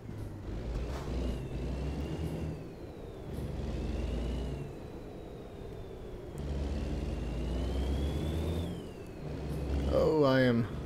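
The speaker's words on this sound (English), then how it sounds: "This truck is really getting bogged down for sure." Heavy truck engine in American Truck Simulator labouring under load, a deep droning rumble that swells and eases with a faint whine on top, while someone talks over it.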